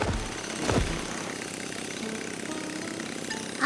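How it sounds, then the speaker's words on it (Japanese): A cartoon drill runs with a steady mechanical drone, with a brief rising whir near the start and a constant grinding hum throughout. "早くあのドリルを止めなくちゃ"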